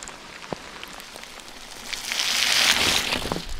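Hard rain patters down on a mountain trail, a steady hiss of drops that swells louder midway, with a few distinct nearby drips and taps.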